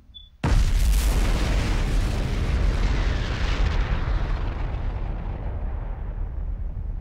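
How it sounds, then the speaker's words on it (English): An explosion in Zone of the Enders: Second Runner bursts suddenly after a quiet moment, then rumbles on as a loud, dense roar that slowly fades over several seconds. "That's an explosion, right?"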